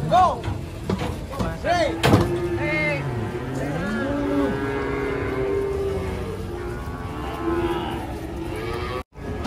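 A large Limousin cow moos several times in long, rising and falling calls, close by and loud, with a sharp knock early on and people talking around it.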